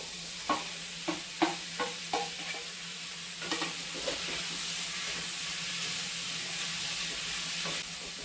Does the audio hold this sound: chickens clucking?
no